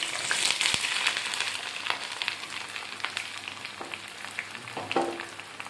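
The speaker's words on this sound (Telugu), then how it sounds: "ఆయిల్ వేడెక్కింది, ఉల్లిపాయలు వేసుకుందాం." Onions fry in hot oil in a pan, a close, crackling sizzle with scattered sharp pops and light stirring, steady for about six seconds with no talking.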